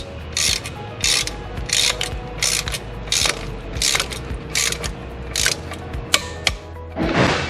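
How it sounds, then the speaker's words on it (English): A torque wrench clicks repeatedly and sharply while bolts are tightened during a Volvo V70R M66 transmission swap, with ratcheting between clicks in a quiet garage and no talking. "We're just going until it clicks."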